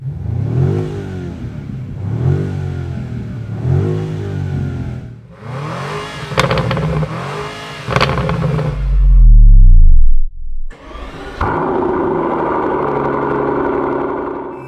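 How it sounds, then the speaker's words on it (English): A 2025 BMW M5 Touring's V8 engine cranks and fires up, revving loudly a few times with deep rumbling, then settles into a steady idle. "As soon as I switch the car in M2, we have the V8 turning on."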